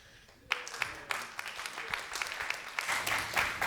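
Scattered audience applause at a tech meetup as a presenter is called on stage: sharp individual claps starting after a brief quiet moment, building into a loose, moderately distant patter with some background murmur.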